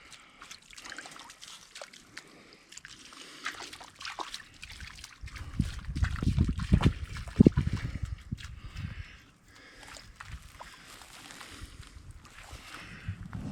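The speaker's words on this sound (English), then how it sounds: "This little creek just starts about 100 feet up from camp." A small, clean mountain creek near a winter campsite trickles and gurgles steadily close by, swelling louder in the middle before easing back to a soft, continuous flow.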